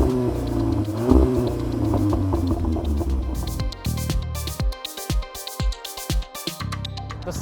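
Audi TT S Roadster engine revs hard and close, a dense throaty drone that gives way to sharp repeated blips of the throttle with brief gaps between them, heard alone with no talk.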